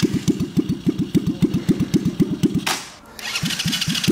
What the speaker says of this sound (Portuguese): Aí depois eu só vou dar uma ligadinha no quadriciclo